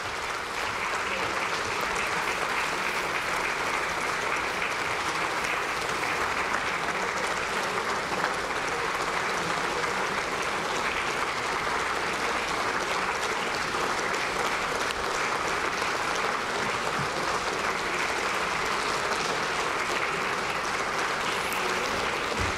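Lawmakers in the National Assembly plenary chamber applaud together, a broad, even patter of many hands that carries on steadily throughout, somewhat distant and moderately loud.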